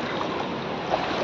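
Floodwater after heavy rain rushes fast along a street in Bhiwandi's Arihant Compound, making a continuous broadband roar with no voices.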